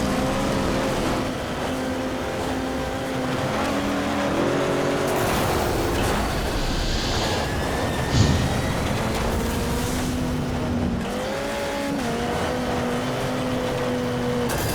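A beat-up car racing in the MotorStorm video game, its engine droning and shifting pitch steadily as it accelerates and changes gear, with a brief thud of impact midway and no talking.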